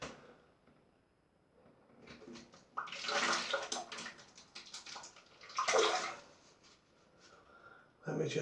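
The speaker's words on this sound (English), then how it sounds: "I've rinsed the brush off, just so you can see it a little better there." A shaving brush is rinsed under running water in bursts of splashing, gurgling flow that start and stop, with quieter gaps between, close by; a voice speaks briefly.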